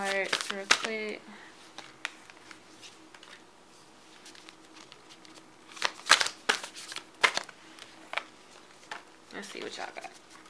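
A deck of oracle cards being shuffled and handled, with papery riffles and soft flicks coming in bursts, close and moderately loud, under occasional speech.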